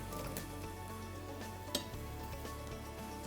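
Vegetables simmering in a pot, with zucchini, carrots, celery, coriander, cabbage and kale cooking together, give a steady low bubbling sizzle and an occasional light clink of a utensil against the pot, with no talking.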